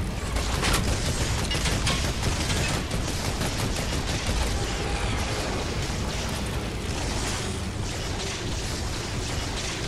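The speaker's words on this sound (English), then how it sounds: "someone's shooting in the back" Dense, continuous gunfire and explosions rattle through an Air Royale video game match, a loud unbroken barrage of overlapping shots with no clear pauses.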